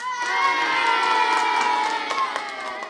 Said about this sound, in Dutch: Geef jullie zelf eens een applausje.